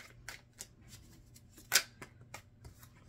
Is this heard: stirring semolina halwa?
no